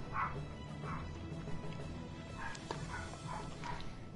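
A dog barks repeatedly in a room nearby, about six short, moderately loud barks coming in loose clusters.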